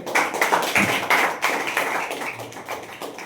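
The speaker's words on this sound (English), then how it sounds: "Clap for Rishabh." Students in a classroom audience clap for a classmate, a brisk, fairly loud patter of hands lasting a few seconds with no talking.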